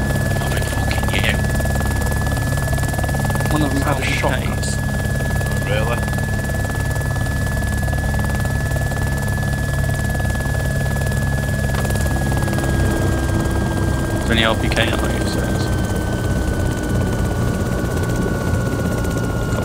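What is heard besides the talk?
helicopter flying in the video game DayZ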